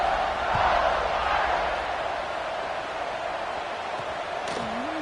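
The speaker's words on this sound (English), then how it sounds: "this crowd is feeling themselves after that last drive" A stadium crowd roars steadily during a kickoff in the College Football 26 video game, a broad sustained wall of cheering noise that stays loud and even throughout with a few faint scattered thumps.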